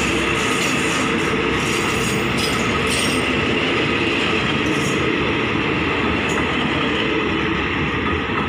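Ordinary train 202 pulling into Chum Saeng station in Thailand, a loud, steady rumble of wheels and carriages rolling close by, with faint squeals and clatter, no talking.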